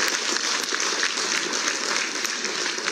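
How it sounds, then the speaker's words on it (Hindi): Enthusiastic audience clapping at a government appointment-letter ceremony in Dehradun, welcoming the first group of selected staff, a steady dense patter of many hands heard from some distance. "आप सभी जोरदार तालियों से ग्रुप फर्स्ट का स्वागत करें"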